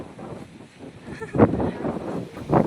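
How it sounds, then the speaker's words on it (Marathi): Outdoor wind gusts buffet the microphone on a cloudy day in open countryside, rising in two loud rushes over a low steady blowing, with no clear talk. "खूप जास्त मस्त असं वारं सुटलं"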